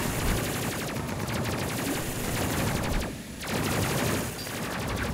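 Turret gunfire in the video game Space Crew rattles in rapid, continuous bursts, loud and close, with a brief dip partway through before the firing resumes.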